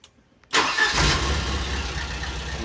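A Volvo car engine cranks and catches after a moment of silence, then runs on at a loud, steady idle close by, with no talking.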